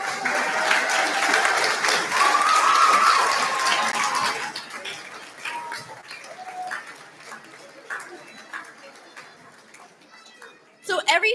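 A choir concert audience claps and cheers loudly for several seconds, then the applause fades into scattered claps and murmuring while a person speaks, with a final brief burst of clapping.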